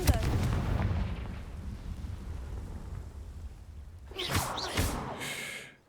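A Confringo fire spell blast in the video game Hogwarts Legacy: a loud, booming explosion that fades into a long rumbling decay, followed by a few brief crackling, whooshing bursts.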